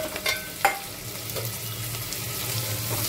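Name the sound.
onion added to hot oil, sizzling in pan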